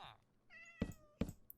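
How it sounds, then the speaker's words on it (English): A cat in the video game Minecraft gives a short meow, followed by two sharp thuds and a faint chirp, all fairly quiet and without talk. "There's cats in Minecraft"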